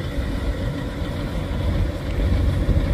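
Truck trailer engine labouring up a steep hill at Bukit Kodok, a deep, steady rumbling drone that swells slightly louder toward the end, heard alone without talk.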